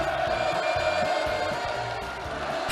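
A large crowd at a night celebration marking the completion of a seaside resort on North Korea's east coast, attended by Kim Jong Un, keeps up a loud, steady roar of cheering and shouting throughout.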